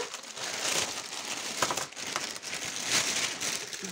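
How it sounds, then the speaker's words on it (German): A plastic bag crinkles and rustles close by as it is emptied during a diamond painting unboxing, with continuous crumpling and a few sharper crackles. "Ich mache einfach mal die Tüte leer."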